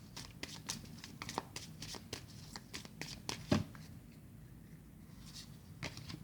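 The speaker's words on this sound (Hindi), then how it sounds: "ऑरेकल कार्ड्स ऐड करते हैं" Oracle cards being shuffled by hand in quick, soft riffling bursts that rustle and tap close to the listener, with faint background sounds between the bursts.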